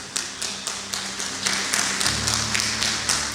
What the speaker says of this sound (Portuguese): Bate uma salva de palmas e toma teu assento